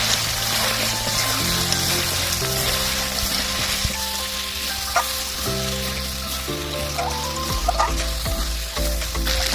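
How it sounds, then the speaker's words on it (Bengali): Turtle meat curry with potatoes sizzles and fries steadily in a hot pan, a close, continuous crackle with faint stirring, and no voice over it. "ভালো করে কষিয়ে নিয়েছি, এবারে আলুটা দিয়ে দিচ্ছি।"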